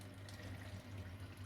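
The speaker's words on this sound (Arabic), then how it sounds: "بحط عليه ميه، كوبايتين ميه ساقعه متلجه." Two glasses of ice-cold water poured over lemon ice cream powder in a kitchen, giving a steady, continuous splashing rush of liquid with a low hum beneath it, close and fairly loud throughout.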